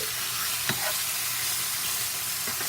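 Tofu sizzles steadily in olive oil in a pan over medium heat, a soft, even frying hiss with a few faint pops.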